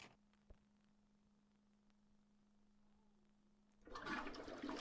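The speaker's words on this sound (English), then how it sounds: "By using a toilet flush" A toilet flushes in a video game, a loud rushing swirl of water that bursts in near the end after a quiet stretch with a steady low hum and one faint tick.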